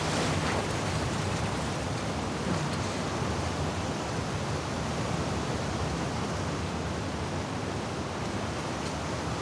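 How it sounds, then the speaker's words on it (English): Crashing sea waves from The Last of Us Part II in the aquarium swimming section, a steady loud wash of surf noise throughout with no voices. "it remained in essence in the section of swimming to the aquarium as Ellie when you were avoiding the waves"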